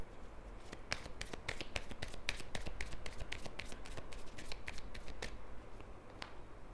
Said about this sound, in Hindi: अच्छा जी, एक और कार्ड हम इस पर ले लेते हैं यहाँ से